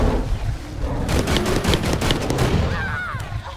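Rapid bursts of gunfire in the Bigfoot hunting game Hunting Bigfoot, a loud, dense stream of overlapping shots that continues almost unbroken throughout, with no clear pauses.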